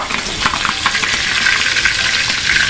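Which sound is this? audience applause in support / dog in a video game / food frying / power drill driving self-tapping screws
food frying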